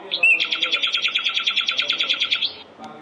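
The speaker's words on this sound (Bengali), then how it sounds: "নাইটিঙ্গেল, পাপিয়া।" A nightingale sings one close, clear phrase of about twenty rapid, evenly spaced bright notes, lasting roughly two seconds and standing out against quiet background noise.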